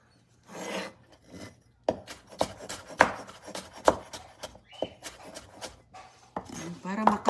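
A knife chops onion and ginger finely on a board, producing close, irregular sharp taps and scraping strokes, with a person talking over parts of the chopping.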